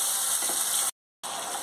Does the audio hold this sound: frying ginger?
yes